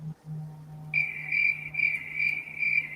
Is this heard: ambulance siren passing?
no